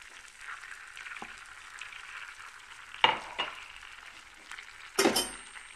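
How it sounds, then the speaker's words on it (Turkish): Flour and starch sizzle and toast in melted butter in a pan for milk halva, a steady soft frying hiss broken by occasional scrapes and clinks of a spoon stirring. "Unu tereyağının içerisinde güzelce kavuracağım."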